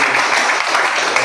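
A crowd at a political party workers' gathering in Maharashtra bursts into loud, dense applause, a short burst of steady clapping.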